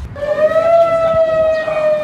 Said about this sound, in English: the emergency siren warns residents to leave by 8 p.m. tonight